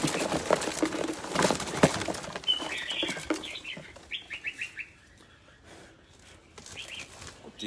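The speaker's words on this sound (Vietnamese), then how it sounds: "con chim, từng con chim ở đây này" Birds chirping in short bright bursts with fluttering wing flaps and rustling at a bird market, scattered calls over a busy, noisy background.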